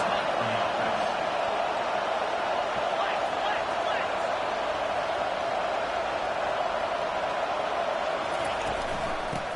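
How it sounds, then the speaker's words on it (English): A packed stadium crowd at a Tennessee Vols college football game roars in a steady, dense wall of cheering that stays loud and continuous throughout. "It is getting loud as this crowd tries to help its defense."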